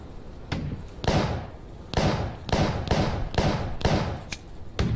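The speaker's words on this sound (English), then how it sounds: "I'm seeing the bullets hit the wall" Gunfire impacts striking a wall in a space cowboy game jam video game: about eight sharp, loud thuds in an uneven rhythm, each followed by a short noisy tail, with no talking.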